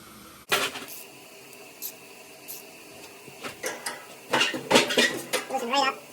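A 3/8 socket on a 1/4-inch drive ratchet loosens a bolt while a heating system's blower motor is being replaced. Soft scraping comes first, then bursts of sharp metallic ratcheting clicks, close and fairly loud, with brief tool clatter.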